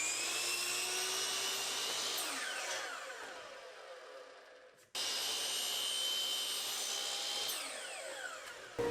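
Miter saw cutting angles in a 1/4 inch MDF template, two loud close whining cuts, each spinning up and then winding down as the blade slows.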